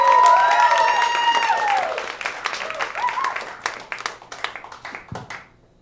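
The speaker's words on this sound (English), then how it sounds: "Keep the applause going right now for DeAndre Johnson." Comedy club crowd applauding as a stand-up comedian takes the stage: a cheer or whistle over dense clapping at first, then the applause thins into scattered claps and fades away.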